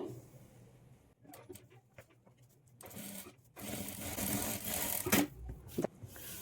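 A sewing machine stitches fabric for a blouse lining in short bursts, the first faint and intermittent, then a louder sustained run of rapid mechanical stitching with brief handling clicks near the end.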